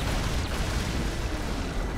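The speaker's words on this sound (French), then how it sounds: "Explosion!" A dense, roaring explosion in Batman: Arkham Knight fills the whole moment, loud and sustained with broad rumbling low end and no speech.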